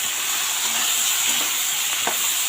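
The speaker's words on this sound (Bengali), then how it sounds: "এটা এখন ভালো করে নেড়ে নেব।" Mixed vegetable curry with taro, salt and turmeric in a pan, giving a steady, fairly loud hiss and sizzle with a couple of faint scraping stirs.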